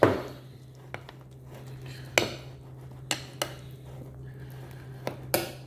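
A spoon clinks against a cup while Splenda is stirred into a drink, a few sharp scattered taps over a faint steady hum.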